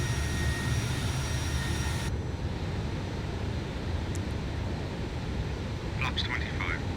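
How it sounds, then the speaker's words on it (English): Jet engines of a JustFlight F-28 airliner descending in a flight simulator game, a steady broadband engine roar that drops slightly in tone early on and continues throughout, with a few faint cockpit tones near the end. "There we go, airplane descending down."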